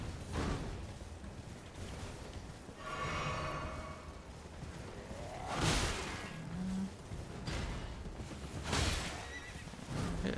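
An enemy's horse neighs and whinnies during combat in the video game Elden Ring, several loud whinnies mixed with clip-clopping hooves and whooshing battle sounds, without speech.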